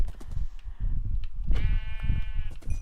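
Sheep bleating in a farming video game, a few quavering bleats, the clearest a long wavering call near the middle, heard alone over soft background game sounds.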